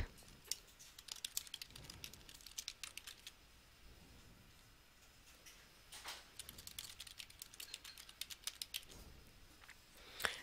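Typing on a computer keyboard gives quiet, close, irregular clusters of key clicks, with brief pauses between bursts.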